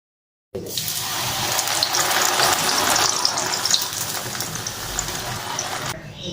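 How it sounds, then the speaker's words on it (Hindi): Chana dal frying in hot oil for nimko, a loud, dense, hissing sizzle that starts abruptly and holds steady throughout before dropping off near the end. "अच्छा, ये तो हमारी फ्राई हो गई है दाल"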